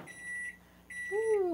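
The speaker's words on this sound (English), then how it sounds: "So I'm just going to stick this in the microwave and help it get going a little bit." A microwave oven heating palm sugar gives two steady electronic beeps, each about half a second long, over a low hum. A rising whine sets in as the second beep ends.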